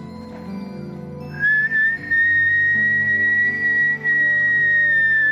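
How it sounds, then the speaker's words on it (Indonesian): A person whistles one long, steady, clear high note that starts after a brief pause and holds to the end, with no talking. "Nih, lihat ya, aku bersiul lagi."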